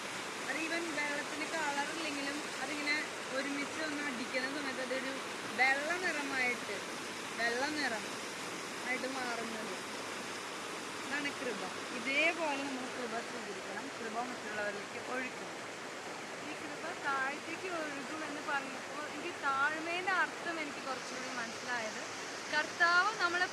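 A waterfall pours down from above, making a steady, faint rushing wash that continues throughout while people talk over it.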